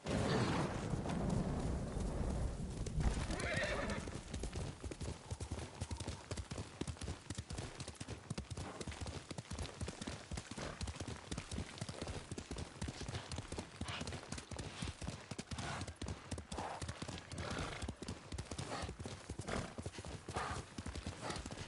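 Mongolian horse in Ghost of Tsushima, steady rhythmic hoofbeats clopping throughout at close range, with a neigh early on and the gallop continuing alone afterward.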